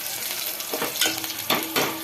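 Spices tempering in hot oil for a potato and tomato curry, a steady crackling sizzle broken by a few louder spits and stirring scrapes near the pan, with no voices.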